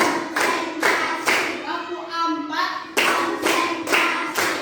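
Rhythmic hand clapping in groups of sharp, loud claps, with a short pause midway where a voice chants counts before the steady clapping resumes.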